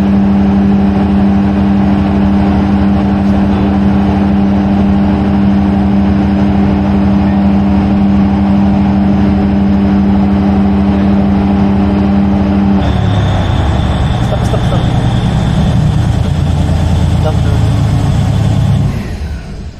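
A generator engine runs loud and steady during a load test with a containerized induction load bank, holding a constant droning hum, then its pitch and tone shift partway through and it continues at a different pitch.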